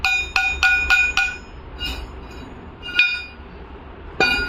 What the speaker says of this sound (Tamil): புது போல்ட் அப்படி அந்த காயத்தில் அடிட்டு